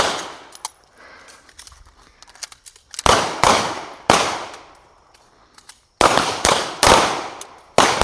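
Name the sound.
gunshots fired from handguns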